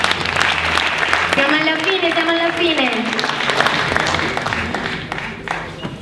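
Applause at a wine tasting event, a steady wash of clapping from a crowd running the whole length while someone speaks over it.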